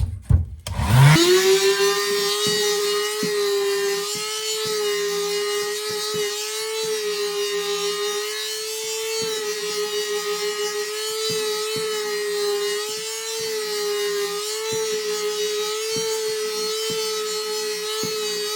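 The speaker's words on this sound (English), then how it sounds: "it's important to make sure that you sand both sides of those" ABS plastic shims are sanded with a powered tool that holds a loud, steady whine throughout, with small scraping rasps recurring over the hum.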